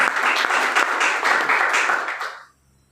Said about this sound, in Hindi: ताली बजाना है, बजा लिया